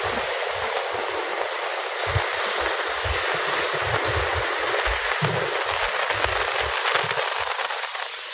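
Heavy rain drums steadily on a bus travelling through Panama, a dense and unbroken hiss over the low rumble of the moving vehicle, with no voices.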